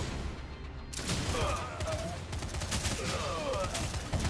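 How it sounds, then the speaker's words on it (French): Gunfire aimed at the player in the video game Lawbreakers, heard as continuous rapid volleys of shots that start abruptly and carry on loud throughout. "On te tire dessus!"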